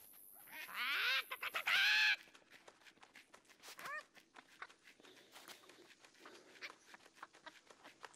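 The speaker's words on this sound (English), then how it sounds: "More specifically, the chickens." Chickens in the LEGO Fortnite video game give a burst of loud squawking and clucking early on, then scattered fainter clucks over soft pattering steps and game ambience.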